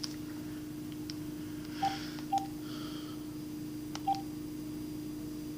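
Three short telephone keypad tones sound one at a time over a steady mains hum on an old phone used to dial the town offices, close and clear against an otherwise quiet room.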